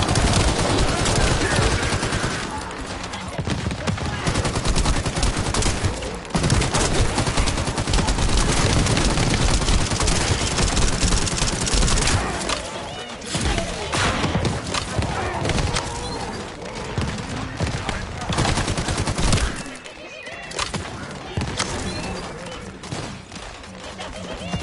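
Rapid automatic gunfire blazes in The First Descendant, a dense, loud, nearly continuous barrage that breaks off briefly before twenty seconds, with a voice talking at times.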